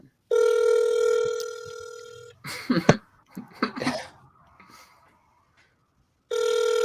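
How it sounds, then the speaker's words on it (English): An outgoing phone call rings out on a podcast line, a long steady ringback tone, then a gap filled with coughs and muffled speech-like sounds before the tone returns, fairly loud and close. "Answer your fucking phone."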